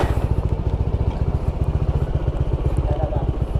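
A motorcycle engine idling after a refresh, a loud, close, rhythmic low chugging with evenly spaced pulses that continue throughout.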